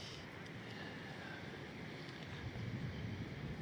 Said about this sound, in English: with a light breeze at our backs